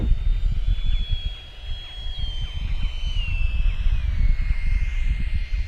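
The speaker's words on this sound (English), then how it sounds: "This is a great grass field jet." A Freewing F-18 90mm RC jet flies over a grass field, its turbine-like whine sliding slowly downward in pitch as it passes, steady and fairly loud over continuous low rumble and wind.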